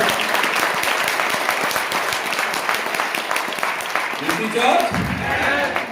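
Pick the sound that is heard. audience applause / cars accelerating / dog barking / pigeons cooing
audience applause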